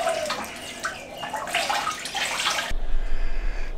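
A wet tanned hide is wrung out by hand, giving a close, splashy run of water streaming and dripping that ends abruptly, followed by a quieter low rumble.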